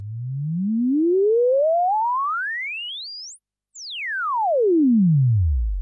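A pure sine tone sweeps through an Instruo ceithir filter module, gliding smoothly up from a deep low hum to a piercing high pitch, cutting out briefly, then sweeping back down to the bass, loud and steady, no voices.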